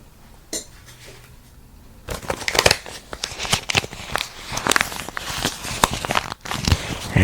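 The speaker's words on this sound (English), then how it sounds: "you notice you could hear the crackling of leaves, fallen leaves, as you walk down the sidewalk." Footsteps crunch fallen autumn leaves on a sidewalk, close crackling bursts that start after a quiet stretch and repeat irregularly with dry crinkles.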